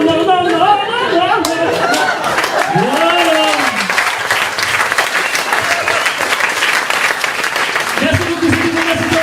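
Audience at a stand-up comedy show bursts into loud, sustained applause mixed with cheers and chatter, a dense roar of clapping that swells and holds across the room while voices call out over it.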